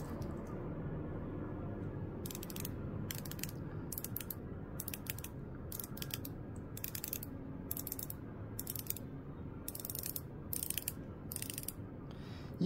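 Quiet, crisp ratcheting clicks of a Seiko watch bezel in short bursts, turned step by step with brief pauses between, close up against a faint background hiss.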